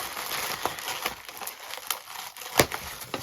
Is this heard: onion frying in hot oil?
no